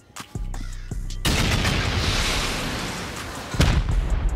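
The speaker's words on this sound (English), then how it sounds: "No HV rockets. We're gonna have to do with regular rockets." Regular rockets fire and explode against turrets on an armored base in a video game, several sharp bursts giving way to a long, loud rumbling blast, with another impact near the end.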